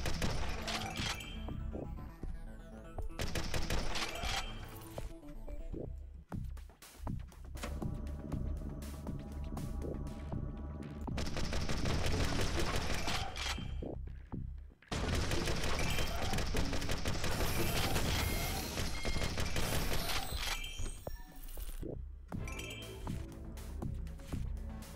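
Grenade launcher fire in the zombie shooter Zombotron, a dense run of loud blasts and explosions with clinking, glassy debris and bursts of gunfire, broken by short quiet gaps.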